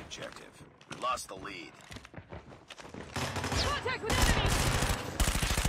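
Rapid video-game gunfire bursts in dense volleys, growing louder in the second half, with excited talk over the first part.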